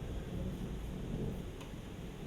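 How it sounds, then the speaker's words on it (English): A nighttime thunderstorm in Taxco, Mexico, with a continuous low rumble of thunder beneath steady rain, heard from indoors, moderately loud and unbroken, with no talking. "there's a wicked storm going on, and it almost doesn't sound real."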